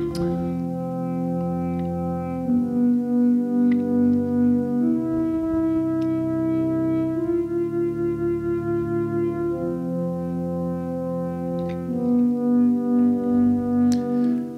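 Two sustained notes from a Prophet 5 analog synthesizer, a warm, rich held tone that shifts between pitches with a slow, pulsing shimmer, loud and close with no talking.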